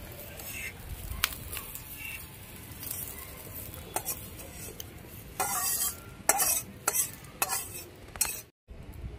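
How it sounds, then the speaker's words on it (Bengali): Shrimp sizzle and fry in a pan, a soft steady crackle broken by scraping stirs and clinks of a utensil against the pan. "চিংড়ি মাছটাকে একটু লাল লাল করে ভেজে নিচ্ছি।"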